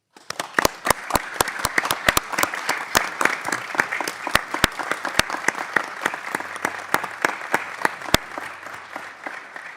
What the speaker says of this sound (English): I would hope that we respect her and appreciate her enough to give her a round of applause.